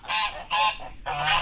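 Loud, nasal honking calls from nearby chickens, three bursts in quick succession with brief gaps, no talking.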